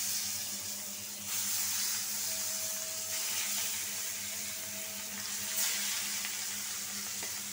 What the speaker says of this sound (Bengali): এই যে এখন মাছটা ভাইজা নেই